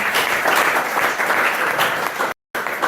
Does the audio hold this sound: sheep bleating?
no